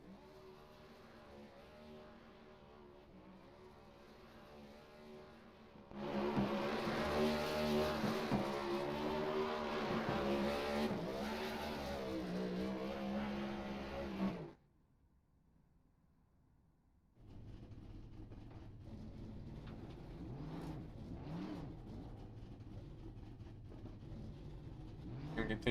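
Race car doing a burnout on the start-finish line at Daytona in iRacing, a loud sustained engine roar with wavering revs that cuts out briefly near the middle, then resumes a steadier, lower drone.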